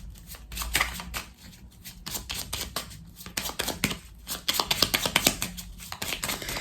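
Tarot cards being handled, shuffled and turned over, giving a close run of dry papery flicks and slaps in irregular bursts with no talking.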